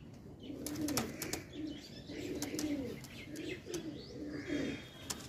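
Pigeons of the Andhra breed, kept for sale, coo in repeated low rolling phrases throughout, with sharp chirps and occasional wing flaps over them and no one speaking.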